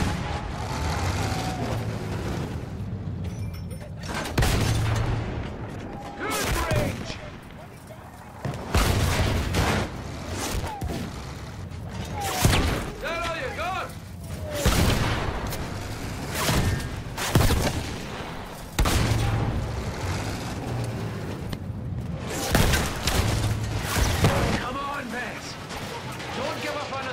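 Battlefield 1 campaign gunfire: repeated loud bursts of shots and explosive blasts from the video game, with rumbling engines and shouted voices between volleys.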